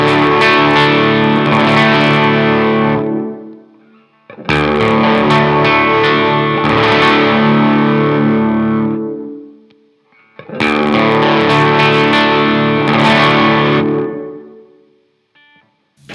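Electric guitar through a Ghost Note Audio SWIRLS compressor/chorus/detune pedal, producing lush, sustained chorused chords; three loud strummed phrases, each ringing out and fading before the next begins.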